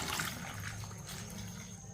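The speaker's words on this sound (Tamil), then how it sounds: "இதில் நல்லா தண்ணி ஊற்றிக்கிடுவோம்." Water poured into a cooking pot holding garlic and shallots for a soup, a soft continuous splashing trickle at moderate closeness with no speech.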